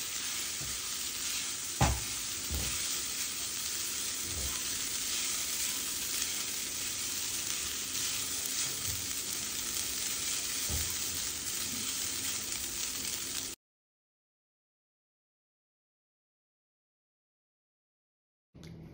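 Poha being stirred and mixed in a kadhai with turmeric and other ingredients, a steady scraping and sizzling that runs continuously for about thirteen seconds with a few sharper clinks, then cuts to silence before a brief return.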